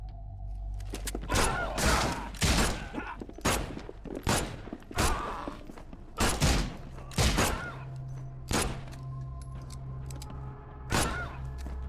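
Gunfire in a horror video game comes as a rapid string of loud, sharp shots, a dozen or so in quick bursts, each with a booming tail, over a low ambient hum.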